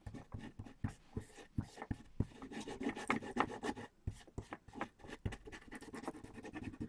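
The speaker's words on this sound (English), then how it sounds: "you just burnish it with your finger until it sticks all in there on that tape" A fingertip rubs glitter onto tape in quick, faint scratchy strokes, an uneven close rhythm of short rasping bursts.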